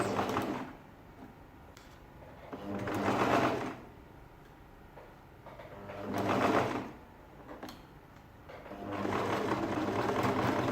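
A sewing machine stitches a ladies' shirt dress in three separate bursts of motor whir, each running a second or two with quieter pauses between, close and steady with no talking.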